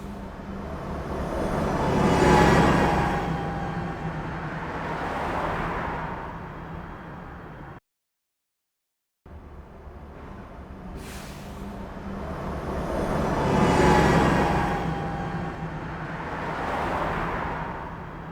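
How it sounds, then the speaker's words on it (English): A car passing by in an upscaled third-order Ambisonics recording, heard twice with a short silent gap between: each pass is a broad tire-and-engine whoosh that builds, peaks and fades, with no voices. "here we have a recording of a car passing by in Ambisonics"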